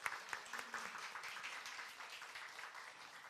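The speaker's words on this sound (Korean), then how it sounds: "네, 한번 환영의 박수 할까요?" A church congregation gives a welcoming round of applause during Sunday service, soft and fairly distant clapping that holds steady for a few seconds.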